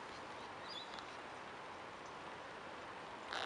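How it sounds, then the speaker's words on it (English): Rain falling near a sailboat, a quiet, steady hiss of drops with no talk, a brief louder patter near the end. "We really needed that rain."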